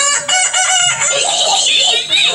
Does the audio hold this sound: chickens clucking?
yes